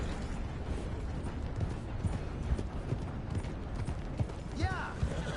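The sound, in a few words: horse hooves clip-clopping in a PS4 video game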